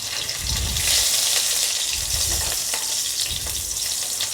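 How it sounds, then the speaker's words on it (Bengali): Garlic and slit green chillies fry in a pan, a loud continuous sizzle with stirring scrapes and periodic low rumbling bursts, no voices present. "রসুনটা আরও ভালো করে আমাকে একটু ভেজে নিতে হবে।"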